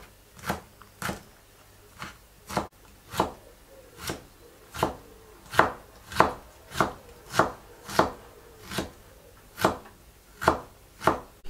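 A knife chops onion and garlic on a cutting board, about twenty crisp, evenly spaced strikes in a steady rhythm, close and clear with no talking.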